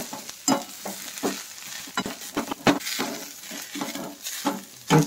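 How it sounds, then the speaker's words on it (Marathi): Tamarind leaves sautéed and stirred in a kadhai for chutney, with a spoon scraping and clinking against the pan in uneven strokes over a steady low sizzle, close and moderately loud, without talk. "ही चटणी कढईला लागू नये त्याकरता सारखी हलवत राहावी लागते"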